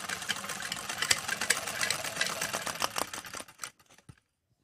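A freshly oiled sewing machine stitches in a fast, steady run of mechanical clatter, close and fairly loud, then slows and stops near the end.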